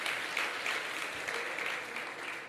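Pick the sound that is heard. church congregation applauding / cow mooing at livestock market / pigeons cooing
church congregation applauding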